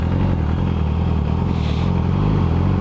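A motorcycle on the move, its engine a steady loud drone with road and wind rumble running through the whole stretch, and a slight rise in pitch near the end.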